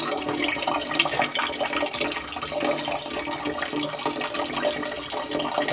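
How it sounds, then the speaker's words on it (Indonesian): Boiled papaya leaves are squeezed by hand, water splashing and trickling steadily for several seconds, close and continuous with no talk. "Kita peras ya. Kita peras ya. Sampai hilang airnya."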